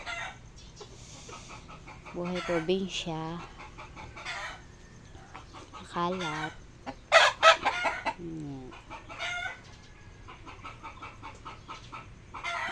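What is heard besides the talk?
chickens clucking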